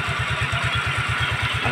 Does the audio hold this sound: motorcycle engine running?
yes